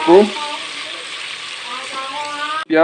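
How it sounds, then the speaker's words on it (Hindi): Finely chopped onion frying in a pan for a potato and yogurt curry, giving a steady broadband sizzle that starts after a brief louder clatter and runs evenly at close range, cut off sharply near the end. "ये मैंने इसमें डाल दिया और इसको हमने फ्राई करना है"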